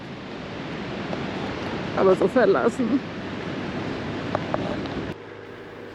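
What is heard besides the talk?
ocean surf by a lighthouse on the Indian Ocean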